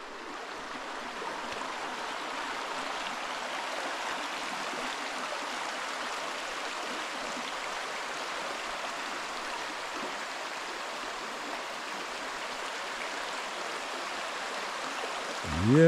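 Wide river water flowing steadily along a farm trail, a continuous broad rushing wash heard up close and evenly loud throughout, with no voices over it.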